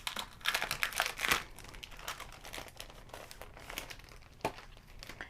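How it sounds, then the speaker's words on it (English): A plastic stencil is pulled from its package with close, quiet crinkling and rustling, irregular crackles and a few sharper crinkles, with no voice. "I want to go ahead and take my stencil out of my package and cut it apart."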